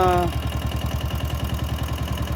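A diesel Bullet motorcycle engine idles close by after a valve adjustment, thumping in a steady, even, low-pitched rhythm, with a brief tonal sound at the very start.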